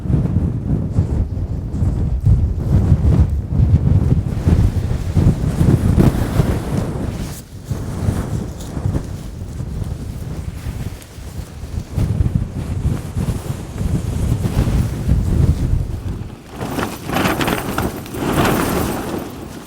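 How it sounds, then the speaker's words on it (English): Strong wind of about thirty miles an hour buffets a Hilleberg Soulo BL tent while wild camping in ice-cold weather, roaring and gusting loudly and continuously with rumbling flaps. "Must be 30-mile-an-hour winds"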